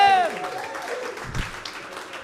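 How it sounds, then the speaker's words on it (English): Audience applause fills a comedy club as a new comic is introduced, a moderate spread of clapping that continues under a host's voice and some crowd noise. "Clap for him!"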